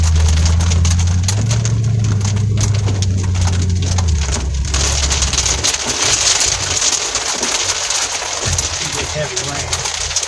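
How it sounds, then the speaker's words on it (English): Heavy rain from a severe thunderstorm drums loudly and steadily on a vehicle, a dense continuous hiss, with an engine's low drone under the first part. "Heavy rain."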